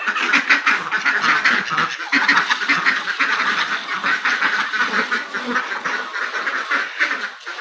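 Domestic country ducks on a small farm quack loudly and constantly as they are fed paddy, a dense overlapping chorus of nasal calls close by with no pauses.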